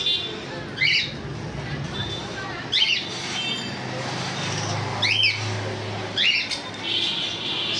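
White lovebirds, 2.5-year-old adults kept for sale, give four sharp, close squawks spaced a couple of seconds apart over a steady background hum.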